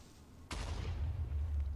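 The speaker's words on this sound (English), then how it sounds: "I heard explosion. It was just a concussion creeper" A concussion creeper from a modded Minecraft game explodes with a sudden sharp blast. A low rumbling boom follows and lingers after the hit.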